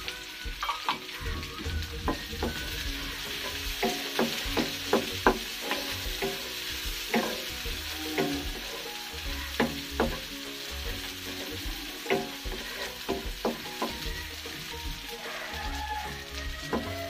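Dried chilies and onions frying in a hot pan while being stirred for an eggplant mash, a steady close sizzle broken by frequent sharp scraping and tapping strokes of the spoon, with no talk.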